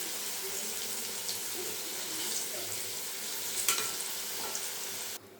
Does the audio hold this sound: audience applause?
no